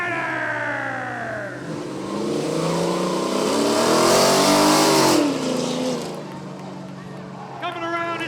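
A Trans Am and a BMW launch off the line in a spectator drag race at Rockford Speedway. Their loud engines climb in pitch as they accelerate away, under an announcer's steady commentary.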